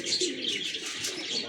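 A flock of around 35 to 40 breeder pigeons coos softly in a loft, with overlapping low throaty calls and faint chirps close by and no talk.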